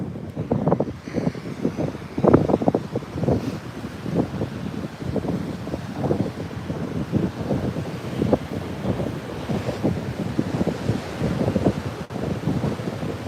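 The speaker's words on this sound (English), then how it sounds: "Yes, very windy." Strong gusts buffet the microphone in continuous rough bursts, with surf rolling faintly underneath. No voices.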